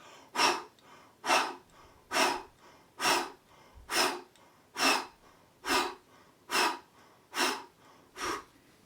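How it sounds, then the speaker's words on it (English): Deep breaths drawn in and pushed out in a vocal warm-up exercise, about ten even, airy breath cycles at a steady slow pace, close and clear with no talking. "So when you inhale, you expand. When you exhale, you inspand."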